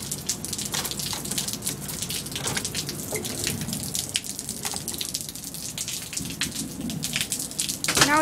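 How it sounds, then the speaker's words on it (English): Steady rain falling outside on a street in El Paso, a continuous patter on surfaces with scattered louder drips, moderately loud and without speech. "Now it's only raining a little bit, but it kind of flooded the streets over there."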